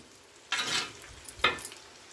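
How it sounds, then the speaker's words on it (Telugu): Chicken frying in a pan gives a quiet background sizzle, broken by two short bursts of louder spitting and stirring, and no one talking. "ఇప్పుడు చికెన్ ఫ్రై చూద్దాం ఓకే ఇంకా ఫ్రై అవుతుందండి"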